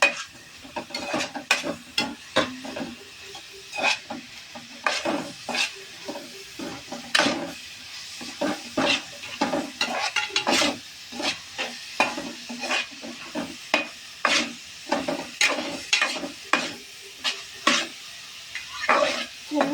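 A spoon stirs food frying in a pan until it turns brown: repeated rhythmic scraping strokes for about twenty seconds over a soft background sizzle.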